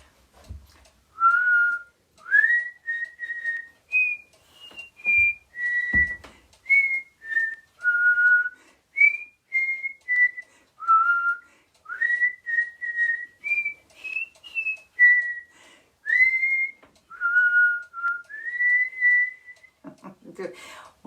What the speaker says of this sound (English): let's try and whistle a song